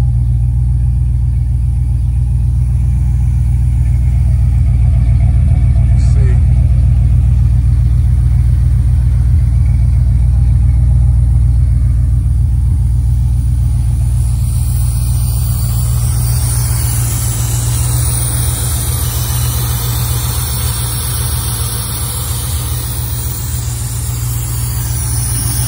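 A 1986 Buick Regal Limited G-body with a big block and Holley EFI rumbles loudly at a fast, warm-up idle close by, the deep steady engine drone settling slightly lower toward the end, with no talking.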